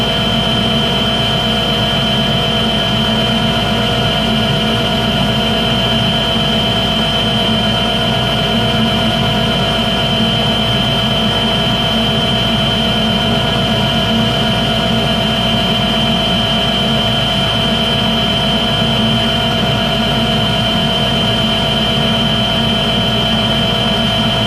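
A wood lathe spins at 2670 RPM while turning an abalone piece, a loud, unbroken whirring hum with steady tones that holds evenly throughout, with no voices.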